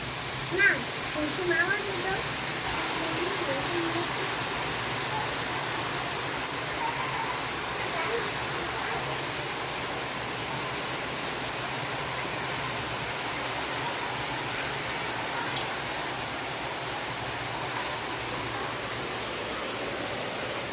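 Steady rain hisses evenly and continuously at a moderate level, a dense wash of falling water with faint voices somewhere in the background.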